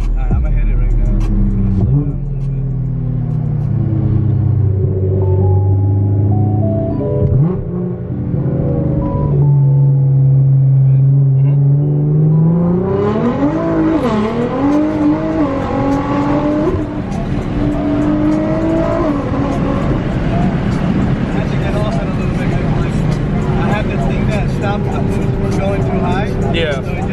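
A BMW 335xi engine revs up through the gears while driving, rising and falling pitch sweeps building to a loud, rough surge, with people talking in the car over it.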